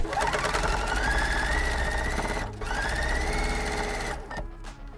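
A sewing machine runs steadily stitching a 1/4 inch seam on quilt block pieces, a loud close mechanical whir with two long continuous runs separated by a brief pause, then stopping.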